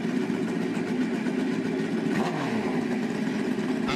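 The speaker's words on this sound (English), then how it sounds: "His Hayabusa." A Suzuki Hayabusa motorcycle engine drones at a drag race, a continuous buzzy roar at a fairly constant pitch with a slight swell partway through, heard from some distance over open-air track ambience.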